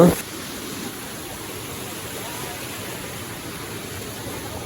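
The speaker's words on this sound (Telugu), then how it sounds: "అక్కడ ముందు గొయ్యిలా కనిపిస్తుంది కదా అదే సెకండ్ వాటర్ ఫాల్స్" The second waterfall of the Dallapalli falls, a steady rushing hiss of water heard at moderate level after a brief louder knock at the start.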